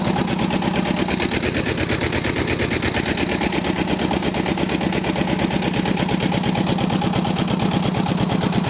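A Kentavr 160V walk-behind tractor engine chugs loudly and close with a rapid, even, machine-gun-like firing rhythm while pulling a LEMKEN 2/20 plough in a field.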